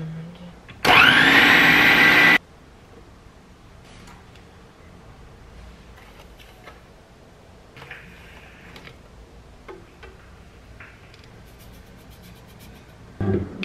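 A bread machine starts mixing banana bread dough with three bananas, coconut sugar and almond powder, giving a loud two-second motor whir, then falling to faint ticking and soft knocks.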